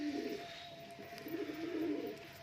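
Pigeons cooing in a mixed loft of male and female birds, including Giribaz and local breeds, a steady throaty cooing that recurs through the clip at moderate distance with no speech.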